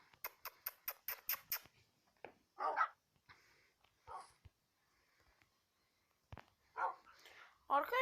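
A rapid burst of about seven sharp dog barks, followed by a person talking, with a few yelps and whimpers between the words.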